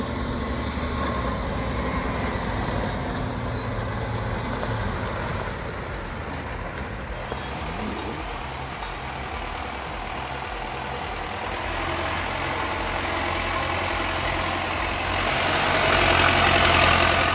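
An MTZ 952.3 tractor hauls a homemade trailer through mud, its engine a steady, moderately loud diesel drone with a faint whine above it, swelling louder near the end.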